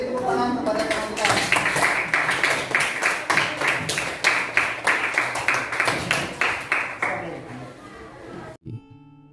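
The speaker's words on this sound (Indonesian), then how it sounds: "Beri tepuk tangan kepada teman-teman" Classmates applaud in a classroom, a dense run of rapid hand claps from many people nearby that keeps up for about eight seconds before breaking off abruptly.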